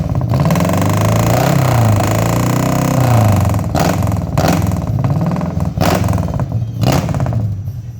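A Colt T120SS motorcycle fitted with an AJN muffler revs loudly and close, its engine note rising and falling in repeated throttle blips with a rough, clattering exhaust.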